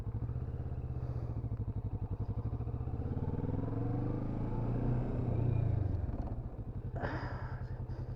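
A Kawasaki motorcycle engine pulses in a low, even rumble as the rider brakes progressively, the tone sagging and swelling as the bike slows, with a brief scrape or hiss near the end.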